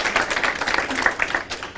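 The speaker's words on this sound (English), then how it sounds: "Let's give Manisha a round of applause." Audience applause at a caucus panel, a dense patter of many hands clapping close by, steady and moderately loud for the whole stretch.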